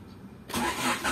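A Honda Civic EG hatchback's D15B SOHC engine cranks and catches after a half-second of quiet, settling into a rough running sound.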